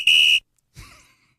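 A whistle is blown once, a short piercing shrill blast that is loud and close, followed by a brief softer breathy sound.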